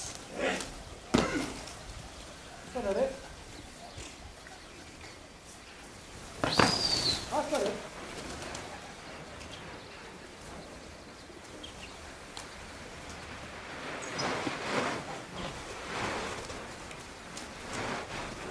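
A flock of pigeons arrives and lands, producing bursts of fluttering wings and scattered thuds against a rainy-sounding outdoor ambience, with a few louder flapping surges and distant faint voices.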